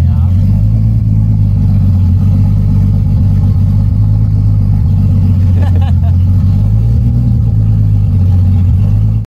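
A VW Golf engine warms up with a loud, steady low drone and constant mechanical rumble recorded close by, its pitch rising slightly midway, with a brief clatter and a voice faintly audible underneath.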